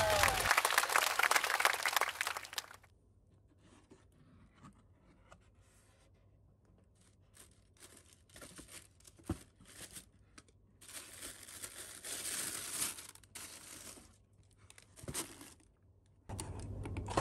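Packaging of a Hova Machina 2 carbon-plated running shoe being opened, with rustling and crinkling of paper and box at the start and end, and quieter handling, tapping and shuffling in between.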